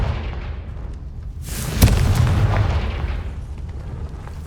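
A Confringo fire spell bursts in Hogwarts Legacy gameplay: one sharp, loud boom with a rumbling tail that slowly fades over low ambient game sound.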